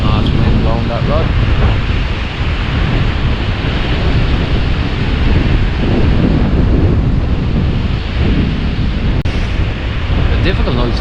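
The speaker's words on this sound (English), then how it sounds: "Oh, it's wind blowing that rod." Strong wind buffets a fishing rod on a beach at night during bass fishing, a loud constant roar mixed with surf wash, with only faint brief sounds above the noise.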